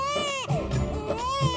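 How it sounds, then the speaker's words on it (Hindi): A small baby wails in rising and falling cries, loud and close, with brief breaths between bursts. "छोटा बच्चा रो रहा है।"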